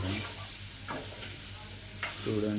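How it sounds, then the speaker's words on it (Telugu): Ivy gourd and coconut fry Andhra village style in a pan with a steady, close sizzle, broken by occasional scraping stirs. "చూడండి ఫ్రెండ్స్, వేగుతుందండి"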